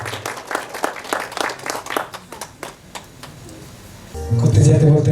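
An audience at an inauguration and reception ceremony applauds, a burst of loud uneven clapping that thins into scattered claps and then gives way to music rising at the end.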